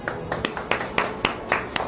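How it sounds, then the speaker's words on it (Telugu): Children in an Anganwadi classroom clapping together, a run of about eight steady, evenly spaced claps at a brisk rhythm, fairly close and moderately loud. "అందరూ చప్పట్లు కొట్టండి."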